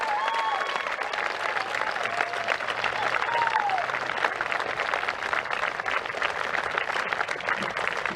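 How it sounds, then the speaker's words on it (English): A long, steady round of applause from a graduation audience at Sizer School, standing to honor teachers and staff, dense clapping filling the hall with faint crowd murmur and a few whistles. "I want to give you a long round of applause"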